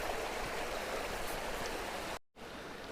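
A stream of water flows steadily across a mountain-bike trail crossing, a continuous broadband rushing wash that stays even and fairly close, briefly cutting out near the end before resuming.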